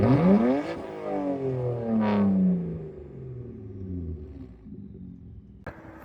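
A modified BMW 135i exhaust blips loudly with one sharp rev that rises then falls away, followed by a second rev and a lower, rumbling idle that settles, with no talking.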